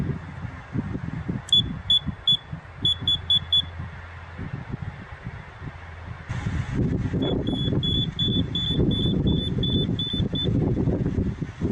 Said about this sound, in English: when it gets fully opened, it'll beep telling me that it learned what the open and close position was